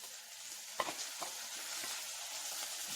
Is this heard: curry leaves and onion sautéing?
yes